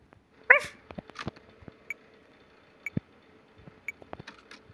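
A dog barks once, loud and close, in Five Nights at Freddy's Security Breach, followed by scattered clicks and taps over a quiet low hum.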